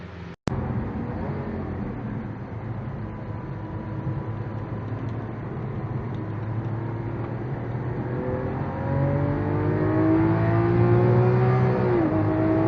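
A Lamborghini Aventador accelerates hard on the Vallelunga track, its engine drone rising steadily in pitch through the gears and growing louder toward the end, close and continuous.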